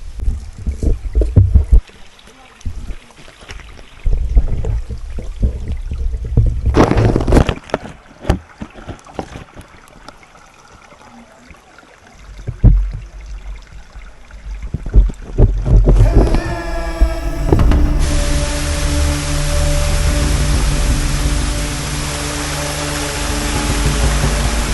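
A small motorboat on water in a forested area: wind buffeting and hollow knocks at first, then an engine starts and holds a loud, steady, close drone to the end.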